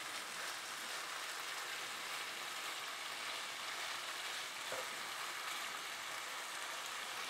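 Sriracha shrimp frying in a pan, a steady soft sizzle and crackle running evenly throughout, close and continuous with no speech over it.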